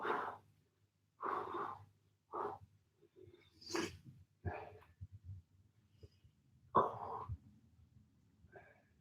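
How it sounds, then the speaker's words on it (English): Big deep breaths come during an upper body home workout, several loud, separate inhales and exhales with pauses between them, close to the microphone and with no speech. "Good, big deep breaths from there."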